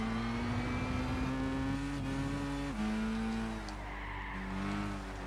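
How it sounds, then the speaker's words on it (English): A tuned race car in the racing game Gran Turismo 6 at a tuned car festival. The engine holds a loud, steady high-revving tone throughout, with its pitch rising and dipping as the car shifts and turns. "The engine sounds really good"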